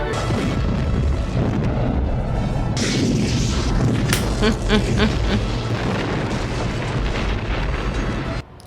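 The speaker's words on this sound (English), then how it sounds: "Stand by photon torpedoes. Torpedoes ready, sir. Look sharp. There she is. Fire!" Photon torpedoes fire in the 1982 film Star Trek II: The Wrath of Khan, with a loud, dense rush of booming, crackling energy that surges midway and keeps roaring before cutting off sharply.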